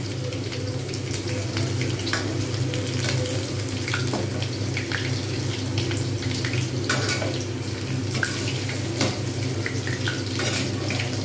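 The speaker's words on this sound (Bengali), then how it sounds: "এরকমভাবে ভাজতে হবে" Small boneless chicken pakoda pieces frying in hot oil, a steady dense crackle and sizzle with scattered pops, close and continuous throughout.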